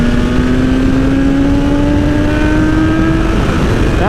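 An ECU-flashed 2020 BMW S1000RR motorcycle pulls hard in fourth gear, its loud, close engine whine climbing steadily in pitch through the whole run with nothing else heard.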